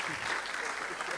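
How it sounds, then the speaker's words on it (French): Audience applause at a west web festival introduction, a short dense burst of clapping heard up close. "Je voudrais qu'on l'applaudisse"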